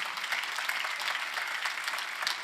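A church congregation claps together in sustained applause, dense and even throughout.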